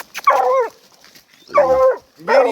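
A hunting dog named Blue, treeing game, gives three loud, close, yelping barks with short pauses between them.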